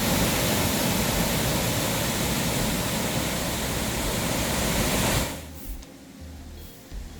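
Loud, powerful roar of Tegenungan waterfall in Bali, a dense steady rush of falling water filling the first five seconds before cutting away to a much quieter background with faint low rumbles.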